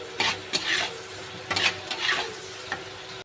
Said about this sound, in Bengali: কড়াইতে আমি পেঁয়াজটা দিয়ে দিয়েছি, দিয়ে একটু ভেজে নেব।